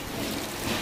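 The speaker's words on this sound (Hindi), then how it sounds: "कल से लगातार बारिश हो रही है।" Continuous rain falls steadily in a hilly area of snake habitat, a soft even wash of drops with no other sounds over it.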